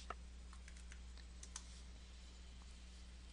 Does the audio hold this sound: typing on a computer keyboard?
yes